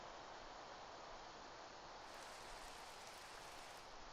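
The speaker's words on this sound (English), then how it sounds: "I'm hearing rain." Steady rain falling in Minecraft, a soft continuous hiss of drops with no other sounds, faint and even throughout.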